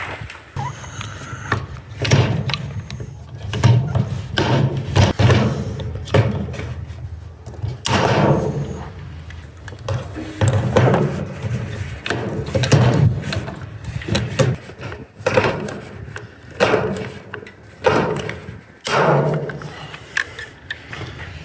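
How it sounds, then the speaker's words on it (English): Pop rivets are set by hand into a seamed aluminum K-style rain gutter, giving a run of repeated squeezing clicks and metallic clunks in irregular bursts, fairly close and loud, with no talk over them. "I'm gonna go ahead and put my Pop Rivet in there."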